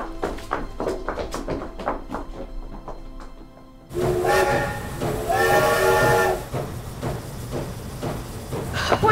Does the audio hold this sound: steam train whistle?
yes